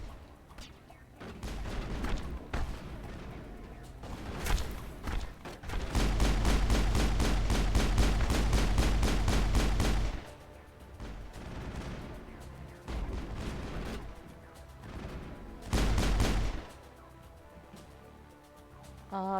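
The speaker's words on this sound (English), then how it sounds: "There's more shooting." Gunfire in the Mass Effect video game: scattered single shots, then a long sustained rapid-fire burst of several seconds, followed by more intermittent shots and another short burst, all loud and close.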